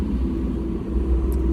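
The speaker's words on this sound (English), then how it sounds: "Dump truck." A dump truck passes nearby with a deep, steady engine rumble that dips briefly and then swells again. No voices are heard over it.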